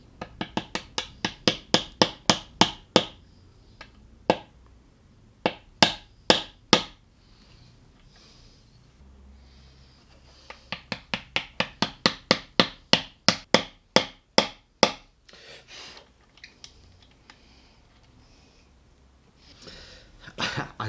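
Sharp wooden tapping on a Telecaster Deluxe–style guitar body as small parts are knocked into place, two quick bursts of rapid, evenly spaced close taps separated by a pause and a few scattered knocks.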